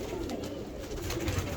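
Pigeons in a breeder's loft coo softly, a low, rounded, repeating warble, quiet and close, with faint background noise.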